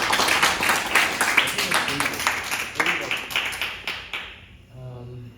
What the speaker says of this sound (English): let's give a hand of applause for Sungyu.